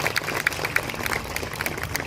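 An audience at a college annual prize distribution ceremony claps in a short, dense burst of crowd applause.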